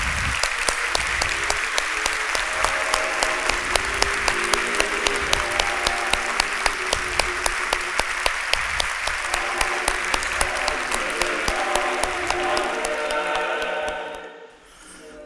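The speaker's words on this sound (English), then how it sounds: "Please give our laureate a warm round of applause." A large audience claps warmly for a laureate at the Stockholm Human Rights Award ceremony, sustained dense applause with some sharper individual claps, fading out near the end.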